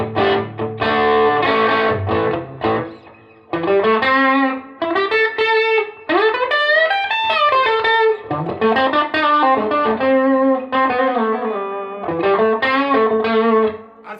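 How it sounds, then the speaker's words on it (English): A G&L ASAT BluesBoy electric guitar with humbuckers played loud and distorted, chords and bent notes ringing out in a continuous phrase with brief gaps between strums. "You just hear the guitar ringing."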